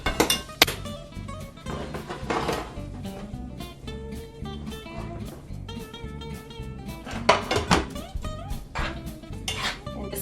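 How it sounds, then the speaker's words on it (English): Pasta being tossed with butter and parsley in a pan, with repeated metallic clinks and scrapes of a utensil against the pan over background music and occasional talk. "And we're just going to give it a good mix."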